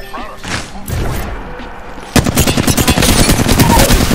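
Automatic weapon fire from the video game Apex Legends rattles in fast, loud bursts, sparser at first and then a dense, continuous volley in the second half.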